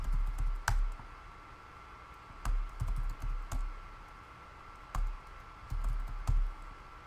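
Keys clicking on a computer keyboard in short bursts of quick taps with pauses between, close and clear with no talking.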